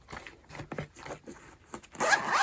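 A zipper on a travel pouch pulled open in short rasping strokes close by, ending in a louder scraping rustle.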